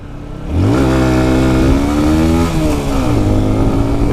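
A Honda Varadero motorcycle engine revs up and down in quick, rising and falling bursts, loud and close, with no voices.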